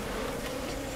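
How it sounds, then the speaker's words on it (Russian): A housefly buzzes continuously in a video game, a close, steady droning hum that holds without pause. "А вон обычная муха летает"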